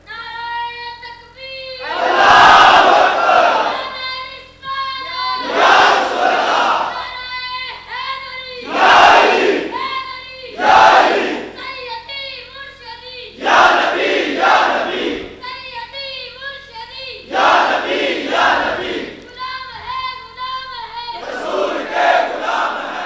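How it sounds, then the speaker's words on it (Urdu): A large crowd chants a religious slogan in response, in loud repeated shouted bursts of many voices together, each burst separated by short pauses over a steady background hum. "اسے کہنا کھڑے ہو کے نعرہ لگائے، کھڑے ہو کے لگائے"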